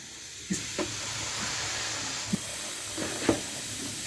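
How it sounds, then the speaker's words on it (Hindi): Semolina roasting in hot ghee for suji halwa gives a steady soft hiss and sizzle, with a few faint stirring knocks over the constant frying noise. "सूजी को घी में अच्छे से भून लेंगे।"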